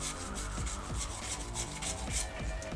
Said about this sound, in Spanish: coger lo que es una lija de este tipo, y le damos una pasada suave a lo que son los contactos